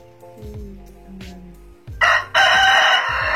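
A rooster crows loudly and close by, a long ragged cock-a-doodle-doo following a few quieter clucks and low tones.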